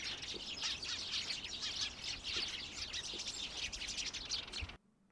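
Small birds, including blue tits, chirp and tweet busily in a cold winter outdoor setting, a dense overlapping chorus of bright calls that suddenly stops near the end, leaving near silence.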